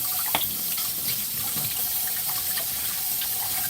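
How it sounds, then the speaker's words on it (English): Tap water runs steadily into a sink while a plate is rinsed beneath it, a continuous bright splashing rush with a few small clatters, close and alone. "Now I rinse off this plate and I use it for the one that's in the great room."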